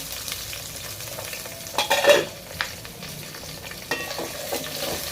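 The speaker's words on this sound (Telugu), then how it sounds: "ఇప్పుడు ఇందులోకి ముందుగా కట్ చేసి పెట్టుకుని ఉల్లిపాయలు వేసుకుంటున్నాను" Chopped onions go into a hot pan for Hyderabadi bagara rice, giving a soft sizzle with stirring scrapes and a louder burst of frying as they land.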